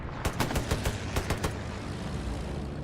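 Rapid automatic gunfire in the Hell Let Loose World War II shooter, a quick run of sharp shots during the first second and a half, then a dense rumbling battle din that continues alone.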